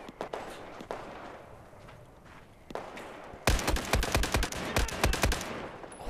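Rapid gunfire from the Battlefield 4 shooter game on a low difficulty setting: a few scattered shots at first, then a loud, dense burst of automatic fire in the second half, with quick cracking reports packed close together and no talking.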